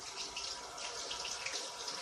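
Really hot water runs from a tap into a cup, a steady close hissing pour with no breaks and no voices.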